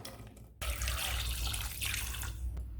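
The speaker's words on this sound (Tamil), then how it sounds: "மூழ்கிற அளவு தண்ணி சேர்த்து வேக விடலாம்" Tap water rushes into a pressure cooker holding washed, cut and peeled tapioca, a steady loud pour that starts abruptly and runs on without a break.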